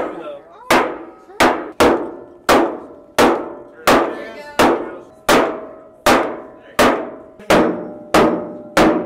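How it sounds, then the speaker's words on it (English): Loud, evenly spaced hammer blows striking a wooden bourbon barrel's bung at a distillery, about a dozen hard thuds in a steady rhythm, each ringing briefly before the next. "they let you hammer the bung out of the barrel like this"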